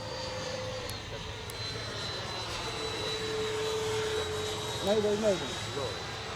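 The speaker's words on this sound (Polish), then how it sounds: "Prawy silnik pracuje na zwiększonej mocy." A Freewing MiG-29 Fulcrum model jet's engines drone steadily with a whining tone, the right engine running at increased power during an emergency, and a voice briefly speaks over it near the end.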